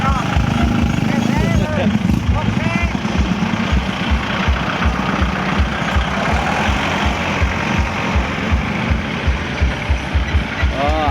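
Several tractor engines idle and chug loudly at a temple candle procession for the start of Buddhist Lent, a steady low rumble with rapid rhythmic thumping, close by, while people talk over the din.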